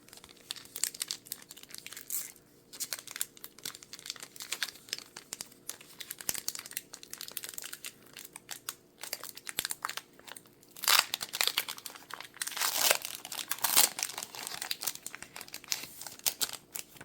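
Crinkling and tearing of a foil Pokémon TCG Astral Radiance booster pack wrapper, close and crisp, with scattered crackles building into denser bursts of crumpling toward the end, no talking.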